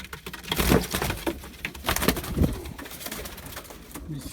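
Pigeons at the Edirnekapı bird market in Istanbul coo and stir close by, with soft rustling, faint wing movement and scattered bird calls over a busy, noisy background.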